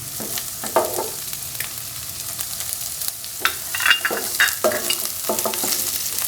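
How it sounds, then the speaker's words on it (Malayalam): Ginger and onion fry in a pan with a loud, continuous sizzle as a spatula scrapes and stirs in repeated close strokes. "ഇഞ്ചി ഒന്ന് നമുക്ക് ആദ്യം മൂപ്പിക്കാം."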